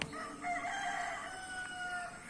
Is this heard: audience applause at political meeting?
no